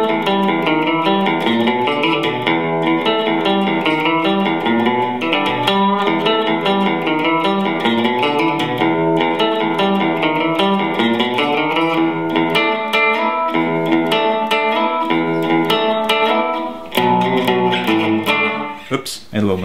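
Electric guitar with a driven, effected tone playing a song's riff at full tempo, a fast continuous run of picked notes, loud and close, with a stumble near the end.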